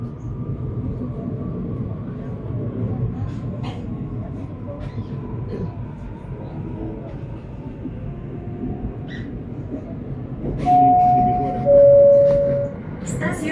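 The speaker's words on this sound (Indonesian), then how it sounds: "selamat menikmati akselerasi maksimal di lintas Jabodetabek" A CRRC CLI KRL electric commuter train on the Jabodetabek line rumbles steadily as it accelerates, a continuous low traction drone with a faint rising whine, and two short, loud electronic tones sound near the end.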